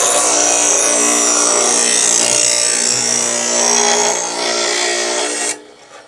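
An electric grinder works a John Deere chainsaw bar with a loud, continuous high-pitched abrasive whine that shifts slightly in pitch, then cuts off abruptly near the end, leaving quieter room noise.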